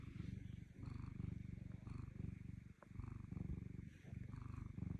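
A black cat purring close up, a soft, steady rumbling purr in rhythmic pulses that fade briefly around the middle and then resume, fairly quiet with no talk over it.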